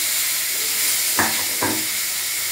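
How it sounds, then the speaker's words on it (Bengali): Bay leaf, dried red chilli and whole cumin tempering in oil with tomato added, a loud, steady close-up sizzle with a sharper burst of spitting as the tomato hits the pan. "তেজপাতা, শুকনো লঙ্কা ফোড়ন দিলাম, গোটা জিরে ফোড়ন দিলাম, টমেটো দিলাম"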